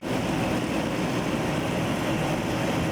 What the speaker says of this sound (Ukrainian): Потім комбайн їх наколює та відділяє з них насіння.